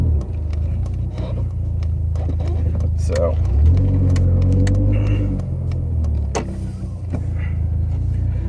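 The inside of a moving car, with a steady low engine and road rumble throughout and scattered small clicks and knocks. Someone talks over the drone.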